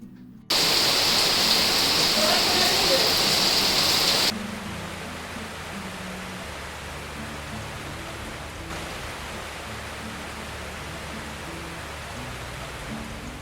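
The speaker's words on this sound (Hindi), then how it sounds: "बारिश यहाँ पे बहुत तेज़ से शुरू हो गई, बहुत ज़्यादा बारिश" Heavy rain pours down in a dense, steady roar, loud and close for the first few seconds, then continuing as a softer, even wash in the background.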